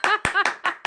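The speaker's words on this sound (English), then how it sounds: "I have to clap" A quick run of about five hand claps, close and sharp, with a voiced, laugh-like tone mixed into each beat.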